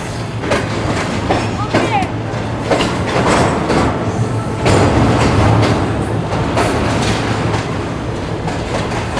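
The Shalimar Express passenger train rolls through a station, close and loud, with rumbling wheels, rhythmic clicks, metallic squeals and a horn-like tone, as people talk nearby.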